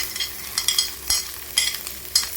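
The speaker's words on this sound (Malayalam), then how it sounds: "നമ്മുടെ സവാള ഇട്ട് കൊടുക്കാം." Sliced onions fry and sizzle in a pan for a dried anchovy roast, with a steady crackle and several bursts of scraping as they are stirred, close and fairly loud, with no talking.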